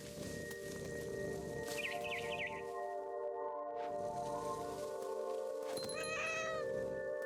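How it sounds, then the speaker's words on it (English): Repeated cat meows and drawn-out caterwauling from the video game What Remains of Edith Finch, fairly close, over a steady synthetic background hum and occasional electronic chirps. "It's a very realistic cat noise."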